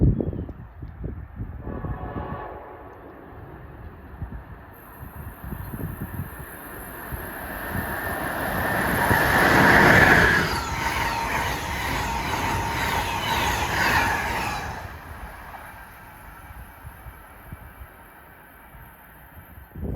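Amtrak train 173 from Boston to Washington approaches along the line at Princeton. A rumble and rushing noise build to a loud peak around the middle and then fade. Wind buffets the microphone.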